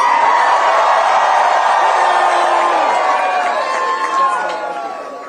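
Large crowd at a victory night celebration cheering and screaming continuously, a loud, dense wash of voices that tapers slightly toward the end.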